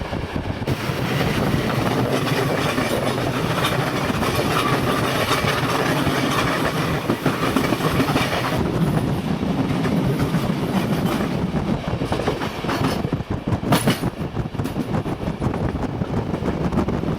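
A freight train rumbles steadily along a railway in the Balkans, loud and close, with a continuous roar and faint clacking throughout, no voices.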